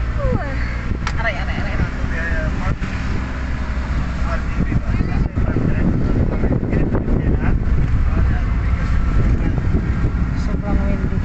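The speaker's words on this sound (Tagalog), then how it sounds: "Sobrang windy guys." Strong wind on a mountain at Sirao Garden in Busay, Cebu, a steady loud roar buffeting the microphone for the whole stretch, with people talking over it.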